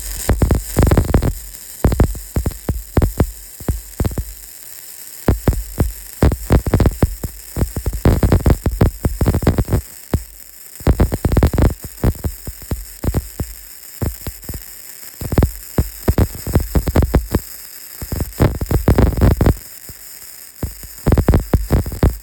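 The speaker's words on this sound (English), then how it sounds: "So we're gonna run some more beads on camera so you guys can see." Flux-core arc welding with a Berger flux welder at about 17.5 volts and 90 amps, running 3/16 beads on steel plate: loud, close crackling buzz in repeated bursts separated by short pauses, with no talk.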